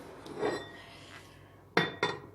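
A pot of stuffed peppers with sauce set onto a stove, giving two sharp metallic clanks near the end after a soft stretch of quiet kitchen handling and faint clinks.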